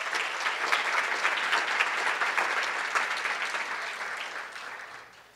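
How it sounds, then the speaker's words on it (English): A crowd at a scholarships and awards banquet applauds steadily with dense clapping for several seconds before the sound tapers off at the end. "let's give them a round of applause"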